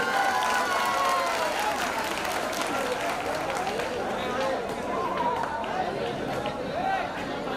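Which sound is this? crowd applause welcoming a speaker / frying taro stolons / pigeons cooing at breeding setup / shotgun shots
crowd applause welcoming a speaker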